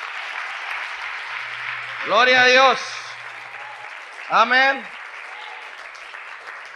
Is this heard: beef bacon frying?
no